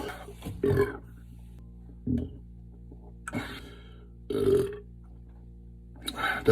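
A man belching after eating, several separate burps of varying length spaced out over quiet moments, close and fairly loud, with short pauses between them.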